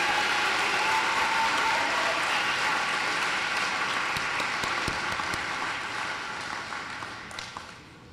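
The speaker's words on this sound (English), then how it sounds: "Let's give them a round of applause." A high school graduation ceremony crowd gives the graduates a dense, sustained round of applause that fades gradually toward the end.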